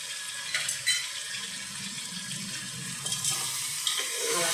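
Salt and turmeric stirred into a goat head curry in a pot, a soft wet sizzle with scraping and slushy stirring, close and moderate, with no talk.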